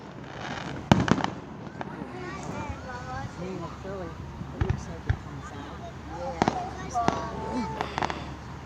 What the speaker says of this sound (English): Oh, that's a lot of fireworks.